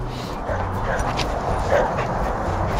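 A dog barks and whimpers close by near a horse, short yips and whines in quick succession over outdoor background noise, with people talking.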